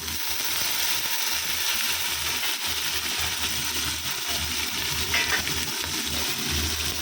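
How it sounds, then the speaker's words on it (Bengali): Black cumin seeds and chilli temper in hot oil with a loud, dense, continuous sizzle, and chickpeas join the pan partway through without cutting the steady frying hiss. "এই যে কালো জিরে, লঙ্কা ফোড়ন দিয়ে দিয়েছি, আর এই যে ছোলাগুলো দিয়ে দেবো।"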